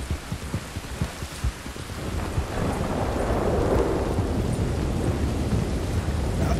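Heavy rain and rolling thunder in Red Dead Redemption 2, starting with patter and rumbles then building into a dense, loud downpour with a long deep thunder roll, no voices present.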